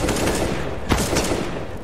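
Rapid automatic gunfire rattles through a Counter-Strike esports match, a dense continuous burst with one sharper shot near the middle.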